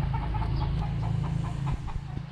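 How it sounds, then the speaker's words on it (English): Chickens on a farm stay at the guesthouse in Mindoro, clucking in short repeated calls over a steady low hum, fairly close and moderately loud. "So here we have some chickens, as you can see here."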